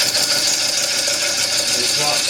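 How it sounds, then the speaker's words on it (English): A slicer tool shear-cuts a wooden platter spinning on a wood lathe, giving a continuous hissing, rasping cut noise with a steady whirring underneath for the whole stretch. "not scraping, it's shear cutting the wood clean"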